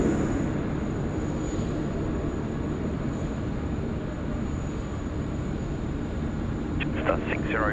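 A plane takes off from runway 16 right at Sydney Airport, its engines making a continuous broad roar from start to finish, with a brief faint sound near the end.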